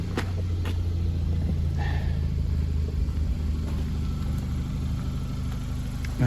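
Low, steady rumble of a Hyundai Accent GDI engine idling close by after intake cleaning, an even drone with faint ticks over it.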